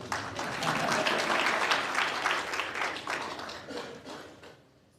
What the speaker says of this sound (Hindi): हाँ बजा दीजिए ताली।